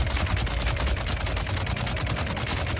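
Two machine guns in the video game Dune fire at the same time, a rapid, continuous stream of overlapping shots, loud and close, rattling without pause and with no talk over it.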